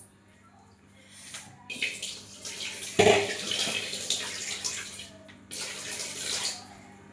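Water is poured into a pot of lentils for sambar, starting with a gentle trickle and swelling into a fuller splashing stream, with brief breaks in the flow.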